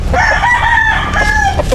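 Free-range chickens cluck while a rooster crows loudly and close by, its long call repeating over steady rural farmyard noise.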